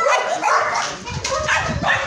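Dogs bark at a farmhouse kennel, a few close, loud barks mixed with yips in a short burst.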